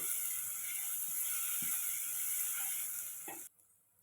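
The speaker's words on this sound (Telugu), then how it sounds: "ఇదంతా మనకు బాగా ఫ్రై అవ్వాలి" Onions fry in a pan with a loud, steady sizzle close by for several seconds before the sound cuts off abruptly, with no voices.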